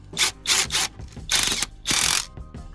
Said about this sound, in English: then we get the nuts on the back as well, and we can get them torqued up